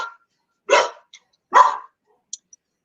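Dogs bark indoors, two loud, sharp barks about a second apart, with a few faint yips after them and no talking.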